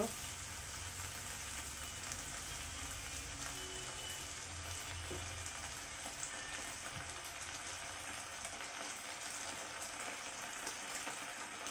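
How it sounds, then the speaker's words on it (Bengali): Food frying in a pan and being stirred, a quiet, continuous hissing sizzle with occasional faint scrapes, close but low in level. "এটাকে আমি কয়েক সেকেন্ড নেড়ে নিব।"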